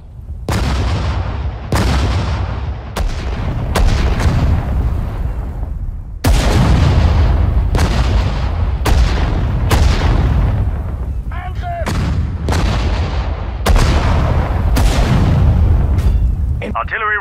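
Artillery firing in the Sudden Strike 4 desert war battle, repeated heavy booming shots about every one to two seconds, loud and close, with brief game voice callouts in between.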